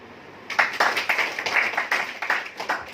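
A small audience at a business plan presentation claps together, a burst of quick, fairly close hand claps in an uneven rhythm lasting about two and a half seconds after a quiet start.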